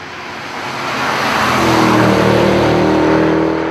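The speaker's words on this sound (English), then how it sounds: "Almost all the noise you hear comes from the back end." Deep V8 exhaust roar from the rear of a Mercedes-Benz E63 AMG at speed, swelling louder over the first second and then holding a steady, droning note with a rising tone near the end.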